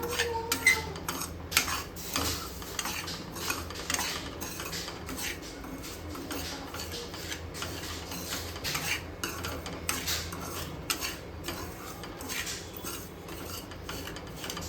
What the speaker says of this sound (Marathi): आता छान असं आपण दोन तीन मिनटं खरपूस भाजून घेऊया